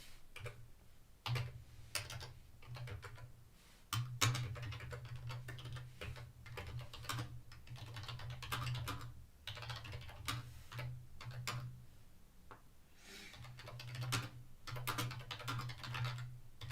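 Someone types a message on a computer keyboard in quick, uneven bursts of close, crisp key clicks with brief pauses, steady and fairly quiet, with no talking.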